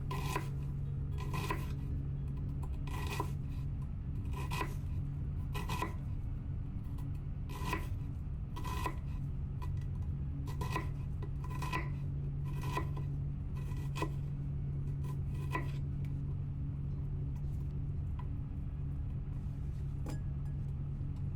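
Knife slicing an onion into thin strips for Swiss cheese and onion soup: a steady series of crisp, evenly spaced cuts against a board, close and clear over a constant low hum.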